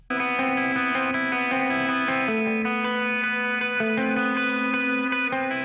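A distorted electric guitar riff from a Stratocaster through an Orange amp, with a shimmering chorus effect, sustained notes stepping between pitches, played loud with no talking.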